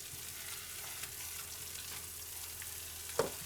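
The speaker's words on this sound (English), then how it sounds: "Occasionally onions just get fried, as we do today" Onions frying in a pan for a medieval dish, a low steady sizzle running throughout with a brief clatter of stirring near the end.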